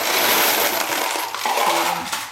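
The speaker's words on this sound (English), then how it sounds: "You can hold bunch of nails." Handful of metal nails poured into a recycled paper cone, a dense continuous rattling clatter close up that settles into a few scattered clinks toward the end, with no talk.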